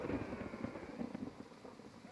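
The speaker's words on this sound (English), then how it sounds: "The rumble of thunder." Low thunder rumbling in the video game Battle Cry of Freedom, a steady, moderately loud roll mixed with rain and wind noise that continues without a break.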